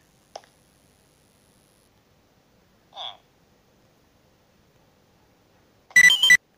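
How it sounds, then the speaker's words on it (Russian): An SMS text message notification chimes within a Minecraft horror map: a short blip, another about three seconds later, then a louder, fuller burst near the end, each standing out against near silence. "Это звук смс-ки."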